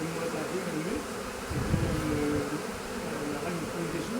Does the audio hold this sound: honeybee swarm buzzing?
yes